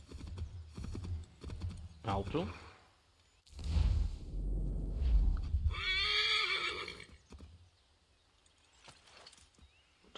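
A stolen horse in Assassin's Creed III neighs loudly and clearly in a long whinny, with galloping hoof clops and rushing motion before and around it; someone speaks briefly and keyboard-like clicks sit faintly in the background.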